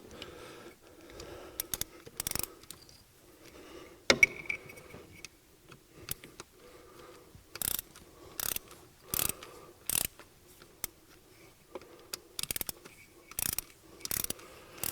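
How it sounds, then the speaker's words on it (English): A ratchet wrench torques valve cover nuts to 88 inch-pounds on a VW Audi 3.0 TDI engine, with rapid clicking bursts repeating in short strokes, close and fairly quiet. "let's torque those, get torqued to 88 inch-pounds as well"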